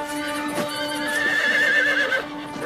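A cartoon horse gives a loud, sustained whinny with a wavering, quavering pitch. Faint hoof clops sit under a steady tonal backdrop. There is no talk.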